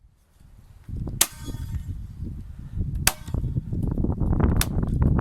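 A Parkside stapler and nail gun fires three sharp, loud snaps spaced a second or two apart, standing out over steady rumbling handling noise close by in a workshop setting.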